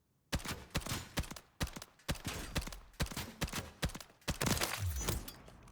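Fast, sharp bursts of MCW rifle fire on full auto in a video game, a rapid string of loud cracking shots in several clusters with short gaps between them.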